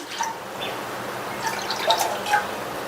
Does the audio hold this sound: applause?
no